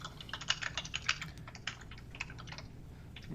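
Rapid typing on a computer keyboard during a user group presentation on software updates, a quick irregular patter of key clicks with a few louder strikes, close and on its own over a low background hum.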